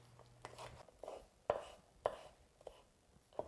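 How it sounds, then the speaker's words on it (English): Knife chopping through beet greens on a cutting board after the stems are trimmed off, a handful of sharp, spaced cuts with quiet rustling between them, close and fairly soft. "we are going to simply just cut off the stems and cut the greens as if we would spinach"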